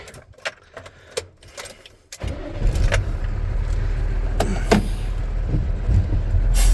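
A car engine starts and settles into a steady low running rumble, preceded by faint keys and clicks; the engine continues loud and close to the end.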